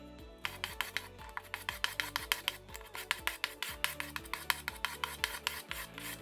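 Excess wood filler is scraped off a brushed parquet floor with a steady run of sharp, rasping strokes close up, each one a quick scrape at an even rhythm, with no voices.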